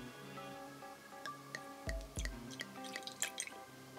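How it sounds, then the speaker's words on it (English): Riesling wine is poured into a glass, making soft splashing and dripping trickles for a few seconds, quiet and close, with no talk during the pour. "So let's give it a pour."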